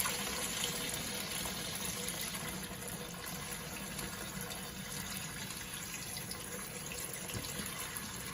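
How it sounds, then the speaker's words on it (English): Pickling solution poured off cucumbers packed in a jar, a steady close rush of liquid splashing out that runs unbroken for the whole stretch, with no talking. "we are going to pour off the solution"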